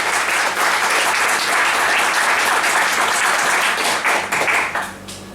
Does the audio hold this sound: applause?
yes